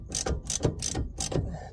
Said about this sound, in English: Man, I'm loving this socket set if you guys haven't seen it